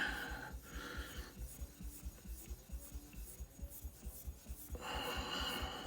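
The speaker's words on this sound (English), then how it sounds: "rub the diamond stone on it to see what I'm doing" A diamond stone is rubbed back and forth across a finishing whetstone in quick rhythmic strokes, a close, soft gritty rasping pulse that fades briefly before a louder scrape at the end, with no talk.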